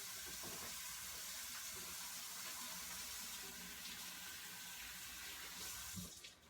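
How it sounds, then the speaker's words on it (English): A kitchen faucet runs steadily into a sink while hands are washed during home cooking, a continuous close splashing hiss that stops abruptly near the end. "I'm going to wash my hands again."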